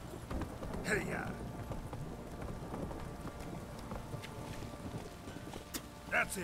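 Hooves of the horse Roach pound in a rhythmic clip-clop gallop in The Witcher 3 game, faint and steady under wind-like ambience, with a brief chirp partway through.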